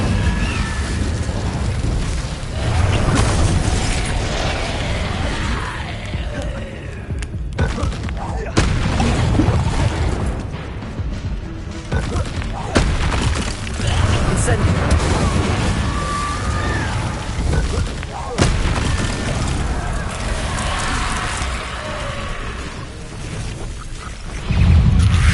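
Incendio fire spells blast again and again in Hogwarts Legacy on PS5, a dense stream of booming, crackling bursts with sharp cuts throughout, loud and continuous, mixed with game sound and voices.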